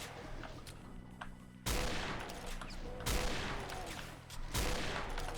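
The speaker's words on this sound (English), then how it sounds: "Let's use Mr. Sniper Rifle." Sniper rifle gunfire in a Doom 2 mod video game: three heavy, sharp shots spaced about a second and a half apart, each with a long decaying rumble, over quieter background game noise.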